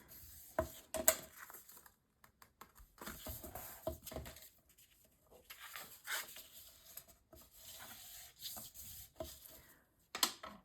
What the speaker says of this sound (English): Burnish down with your bone folder.